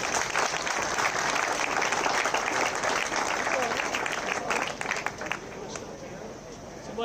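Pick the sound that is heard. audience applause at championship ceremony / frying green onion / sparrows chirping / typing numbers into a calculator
audience applause at championship ceremony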